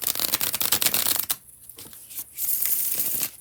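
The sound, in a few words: tarot cards being bridge shuffled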